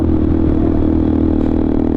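Motorcycle exhaust from a Yamaha R15 V3 and RS 200 being ridden on a cloudy day, a steady droning engine note held close and loud for the whole stretch with no break.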